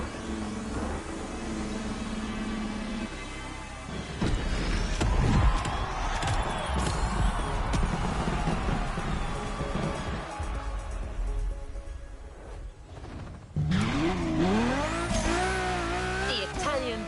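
A Lamborghini Terzo Millennio in the racing game The Crew Motorfest, its engine revving and shifting through rising and falling tones with tyre noise, loud and continuous alongside game music and effects.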